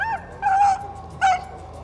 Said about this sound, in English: We got two young dogs. They don't know when to bark yet and when not to, but they're learning.